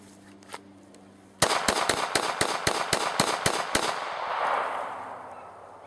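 A Glock 30 SF pistol fires a rapid string of about ten loud, evenly spaced shots outdoors after a quiet reload, each report sharp and close, ending with a fading echo.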